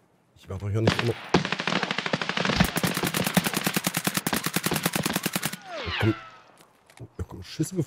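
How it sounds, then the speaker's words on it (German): Sustained machine gun fire in Escape From Tarkov, loud rapid bursts hammering for several seconds with single shots before and after, with a voice speaking briefly near the end. "Da kommen Schüsse geflogen, Alter."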